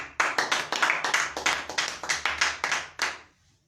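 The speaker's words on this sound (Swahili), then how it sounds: "Tupigie Mwenyezi Mungu makofi mazuri." A church congregation claps hands together in a brisk, even rhythm, about a dozen sharp collective claps in three seconds, loud and close, ending abruptly and leaving near silence.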